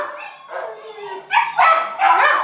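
A shelter dog gives a whining yelp, then a quick run of close, loud barks and yips, with no talking.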